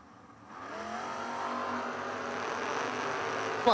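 Drag race cars, a Camaro and a Maverick, at the starting line of a footbrake drag event, engines swelling to a loud sustained high-revving roar after a brief lull, with a sharp burst at the very end.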